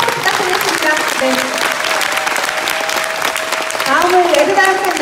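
A seminar audience at KINTEX in Ilsan claps loudly and steadily for the full stretch, a dense wash of applause with a voice carrying faintly over it.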